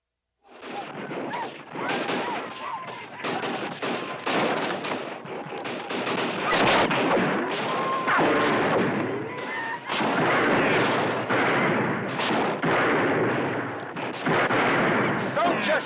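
Gunfire in an old Western town, a long run of loud rapid shots and booming blasts, dense and overlapping, with shouting voices mixed in throughout.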